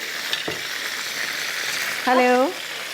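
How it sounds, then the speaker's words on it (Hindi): Masala sizzling and frying steadily in a pan for chicken karahi, a continuous hiss with stirring scrapes and a short burst of clatter near the end. "आप इसका गरम मसाला डाल के मसाले को अच्छे से भून लेंगे"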